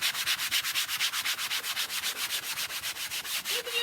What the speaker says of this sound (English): You can use any kind of sandpaper,